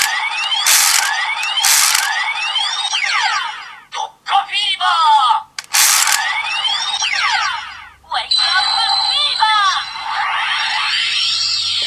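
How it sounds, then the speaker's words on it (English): A CSM Tatsulot toy from Masked Rider Kiva plays its elaborate electronic Emperor Moon Break attack sequence: loud repeated rising sweeps and chiming tones with bursts, broken by short gaps, and a synthesized voice woven in. "we get the Emperor Moon Break, with a much more elaborate sound"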